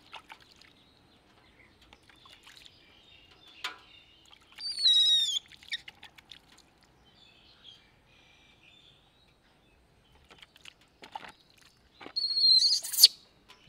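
A bird calls in short chirping phrases, with a couple of brief squeaky bursts spread over a mostly quiet stretch along with scattered faint clicks.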